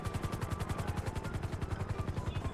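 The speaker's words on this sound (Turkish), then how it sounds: "Ne oluyor lan helikopter geliyor." A helicopter thumps in the GTA 5 video game, its rotor giving a fast, steady, loud pulse throughout with rapid gunfire mixed into the rhythm.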